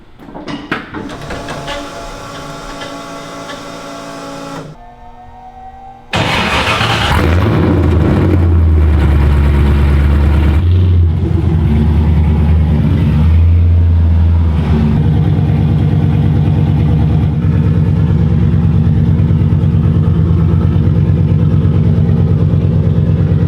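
A Nissan Skyline with an LS V8 swap and a new exhaust idles, then starts and settles into a loud, deep rumbling exhaust drone that holds steady close by.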